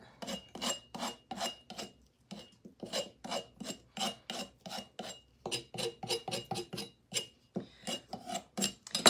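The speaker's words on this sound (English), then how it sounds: "we can use our scraper tool just to kind of scrape it down a little bit" A scraper tool rasps against a Dollar Tree wooden birdhouse in quick, rhythmic strokes, a close series of dry scraping bursts with a short pause partway through and no talking.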